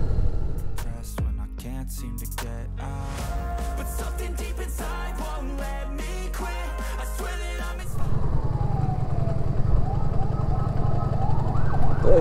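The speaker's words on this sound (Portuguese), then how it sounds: "já passar a ambulância" An ambulance siren wails as it passes on a rural road near Ponte de Lima in Portugal, its rising and falling tones loud at first and then giving way to a rushing vehicle and road noise.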